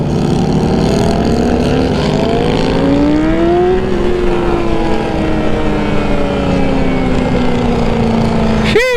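Several Harley-Davidson motorcycles rev hard at a bike meet, a loud, dense engine roar with rising and falling pitch sweeps running throughout, close by and continuous.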